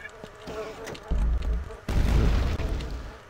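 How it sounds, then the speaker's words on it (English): Explosions in Quake 2 RTX come as deep, rumbling booms, one after another, loud and close, over a buzzing game background with no clear speech. "Oh, I missed the explosion."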